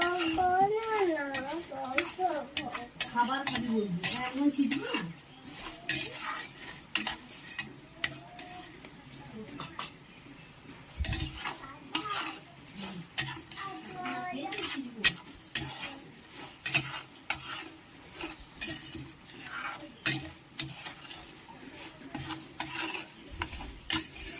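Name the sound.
lightly frying ingredients in a pan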